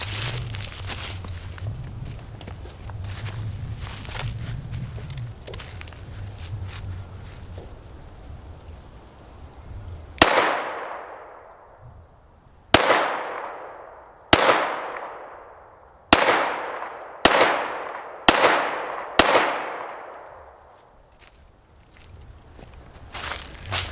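A Springfield Hellcat RDP pistol fires about seven loud, sharp shots at roughly 5-6 yards, each crack decaying quickly, spaced irregularly after a stretch of low murmuring background.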